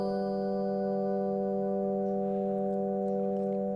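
Sustained bell-like synth chord from the Pigments preset The Bells, steady and bright with ringing overtones, held alone without talk.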